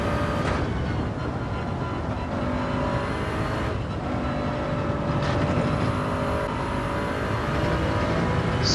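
Race car engine in Gran Turismo 7 during a daily online race, a steady loud mechanical drone running throughout with faint higher whine sweeps, no talk.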